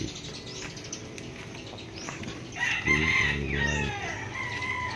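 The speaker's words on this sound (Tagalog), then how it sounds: "dami ng mga manok dyan oh mayroon pang manok dyan" Chickens cluck and squawk nearby, with a rooster crowing loudly partway through over a low outdoor background.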